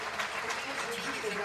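Conference audience applauding, a dense wash of clapping from a crowded hall that stays even and steady, with a voice speaking over it.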